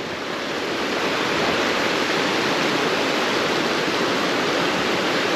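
Mountain river in the Ariège Pyrenees near the Étang de Comte, rushing in a steady, loud broadband roar with no breaks, close by and heard on its own without any voices.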